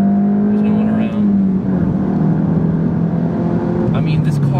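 Steady engine drone from a VW GTI pulling hard past 2,000 RPM, the note holding then easing slightly as it accelerates, heard from inside with road and wind noise.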